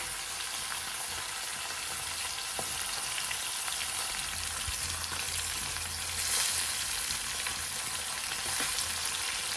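Fish coated in masala powder, chilli powder and turmeric fries in a pan with a steady, close crackling sizzle that holds throughout, without speech.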